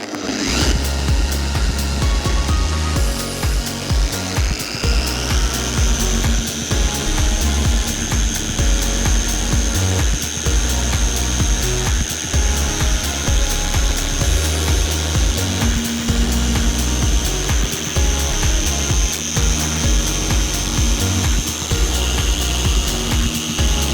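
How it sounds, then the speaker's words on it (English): A car polisher with a rotating backing plate drones loudly and steadily, its pitch rising slightly as it spins up and then holding a constant whine throughout. "And now use the polisher, but make sure that the backing plate rotates all the time."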